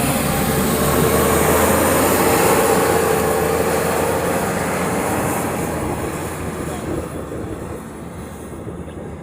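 An Alaska Airlines airliner arriving from LAX at Honolulu, a loud, broad roar that stays strong and then slowly fades, with faint talk in the background.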